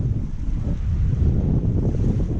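Surf washes onto a beach in a small bay in Corsica, a steady low rumbling roar mixed with wind buffeting the microphone, with no talk.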